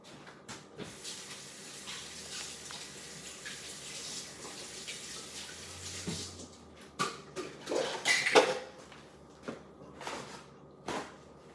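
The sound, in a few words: washing hands under a running tap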